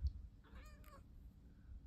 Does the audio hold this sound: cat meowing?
yes